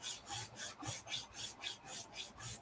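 A flat file rasps rhythmically across a hard 1/48 scale resin model part, about nine even back-and-forth strokes in a steady, close, scratchy pattern.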